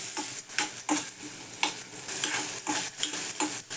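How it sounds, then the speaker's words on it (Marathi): Onion fries in oil for a spicy thecha, a bright sizzling hiss broken by repeated close scraping stirs in an uneven rhythm, with no one talking. "कांदा थोडासा तळू द्यायचा तेलात."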